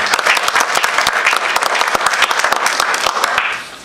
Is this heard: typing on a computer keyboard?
no